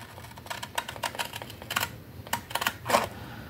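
Paper or card is cut to make a 3D chocolate bar craft, heard as a close series of quick, crisp snips and clicks in an uneven rhythm, with no talking.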